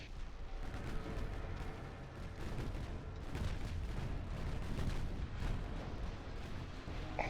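Naval secondary guns firing armour-piercing rounds in the warship game Ultimate Admiral Dreadnoughts: a steady, dense rumble of overlapping distant booms and cannon blasts with no single sharp shot standing out.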